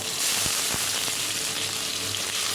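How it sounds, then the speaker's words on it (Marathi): Onion frying in oil in a kadhai, a steady close sizzle with a few soft knocks of stirring. "कांदा टाकून घेतलं आहे छान कांदा परतून घेतला"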